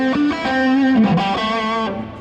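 Overdriven electric guitar played through a BluGuitar BluBox speaker emulator pedal with a fat cab setting, ringing sustained distorted notes that slide between pitches, loud and close with no talking.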